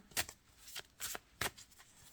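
Tarot cards are shuffled and drawn by hand, giving several quiet papery riffles and slaps in an uneven rhythm, close by and soft, with no talking.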